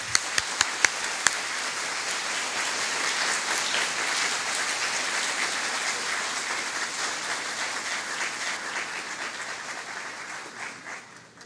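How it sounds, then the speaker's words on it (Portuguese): An audience welcomes lecturer Alberto Almeida with applause, opening with a few sharp separate claps that swell into dense, steady clapping from a large crowd, then fade toward the end. "A quem recebemos, então, com nossos aplausos"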